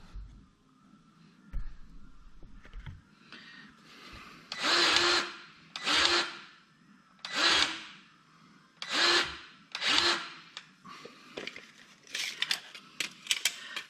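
A grease gun pumps grease into the track tensioner of a Kubota 057 excavator, with five strong rhythmic squeaking, scraping strokes about a second apart, close by, plus a couple of fainter strokes at the end.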